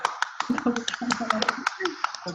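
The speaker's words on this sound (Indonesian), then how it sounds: "ayo biar kita tepuk tangan online buat kita semua lah" Online group applause during a video call, with several participants clapping in a quick scattered patter, some of it cut up by the call connection, while voices talk over it.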